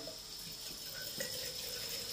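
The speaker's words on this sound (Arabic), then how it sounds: "بنحط الابريق، بنعبيه مي" Tap water runs steadily into a teapot, a constant close hiss and splash that continues without a break, with no voices.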